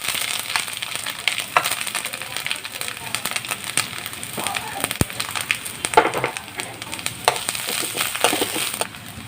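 Ginger fries in a shallow pan after sliced coconut has been fried in it, for traditional ginger theeyal, giving a light crackling sizzle with scattered pops while someone talks over it.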